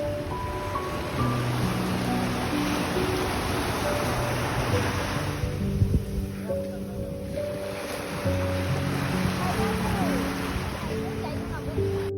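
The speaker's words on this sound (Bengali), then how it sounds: "এই সমুদ্রের শব্দটা শোনার জন্য, এই সমুদ্রের গর্জনটা শোনার জন্য আমরা সবাই মিলে চলে গিয়েছিলাম" Ocean surf rolls onto a beach near Chittagong at 3 a.m., a steady, broad wash of waves that continues under music and faint voices for the whole stretch.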